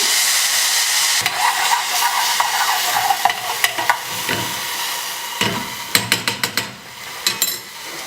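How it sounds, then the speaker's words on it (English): A tablespoon of garlic frying in regular vegetable oil in a pan, a loud hissing sizzle that settles, then a series of sharp utensil taps and scrapes near the end, up close with no talk. "We add a little oil to our pan. Add a tablespoon of garlic."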